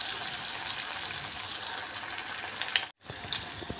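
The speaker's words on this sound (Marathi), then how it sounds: "दोन बॅचमध्ये मी हे पनीर छान असं तळून घेणार आहे" Paneer frying in hot oil, a continuous hissing sizzle close by with a brief dropout near the end before it resumes, with faint light clinks.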